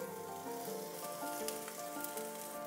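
Garlic, ginger and red onions sauté in avocado oil in a non-stick pan over medium heat, a quiet, even sizzle with faint crackles and soft stirring under a light background hum.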